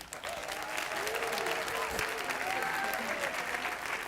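Sustained applause from a large audience after a film Q&A, dense and even clapping that stays steady for several seconds with faint voices mixed in.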